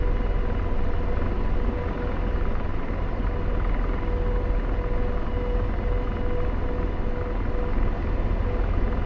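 A steady, loud helicopter drone from an AH-64D Apache taxiing in DCS fills the scene, with a constant rotor-and-turbine roar and a fixed whine holding evenly throughout, alone and without voices.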